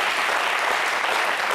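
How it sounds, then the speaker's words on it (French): An audience bursts into dense, sustained applause, a steady close wash of many hands clapping with no breaks. "Merci de vous applaudir si vous le connaissez."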